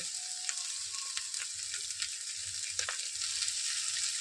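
Chopped tomato with mixed vegetables, cashews and raisins frying in a pan for leftover-rice egg fried rice, a continuous bright sizzle broken by a few spatula clicks and scrapes, close and fairly quiet, no voices.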